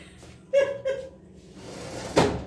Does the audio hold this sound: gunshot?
no